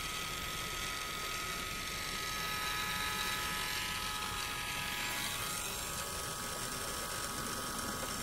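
An electric siphon pump drawing gasoline, its small motor buzzing in a steady, rapid drone that stays fairly quiet and unbroken from start to finish, with no voices.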